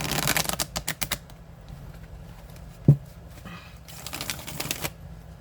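A deck of tarot cards being shuffled by hand, giving bursts of rapid crisp riffling clicks, then a pause with a single soft thump, followed by another riffle, close and moderately quiet.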